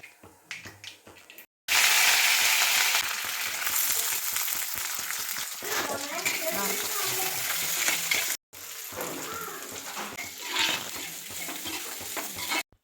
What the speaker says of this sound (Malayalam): ആദ്യം കടുക് പൊട്ടിച്ച് തേങ്ങ ഒന്ന് നന്നായിട്ട് വറുത്തതിന് ശേഷം പുറകെയാണ് ചെറിയുള്ളി ഇട്ടത്.